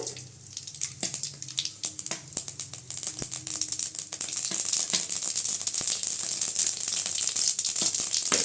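Mustard seeds sizzle in hot oil in a home kitchen while cabbage carrot poriyal is made, a steady, faint crackling hiss with scattered pops that grows denser and more continuous toward the end.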